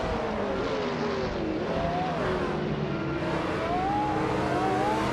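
A classic 1999 Audi R8R LMP900 race car roars off the line at the Gold Coast with other cars, loud engines rising and falling in pitch as they accelerate through the gears.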